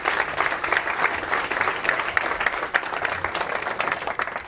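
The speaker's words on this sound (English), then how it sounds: "Give a big round of applause for Baba and Dennis" Applause for visiting F.C. Copenhagen football players fills an indoor gathering: dense, continuous clapping from a crowd, close and lively, with a few sharper individual claps standing out.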